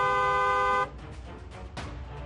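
A car horn blares in one sustained honk for almost a second, then cuts off abruptly, leaving faint background noise and a short thump, used as a sound effect in a Hindi news bulletin.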